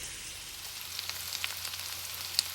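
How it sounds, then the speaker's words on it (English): Bulk plain Italian sausage pieces browning in a soup pot give a steady close sizzle and frying hiss with small scattered pops and crackles, without any talk. "my sausage has been browning, and I use just plain Italian sausage"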